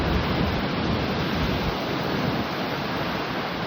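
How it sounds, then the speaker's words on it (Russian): Big Black Sea waves three to four metres high break along the Georgian coast as one loud, continuous roar of surf and wind, with no voices. "я таких волн никогда в жизни не видел на Черном море."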